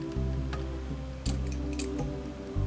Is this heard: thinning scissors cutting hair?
yes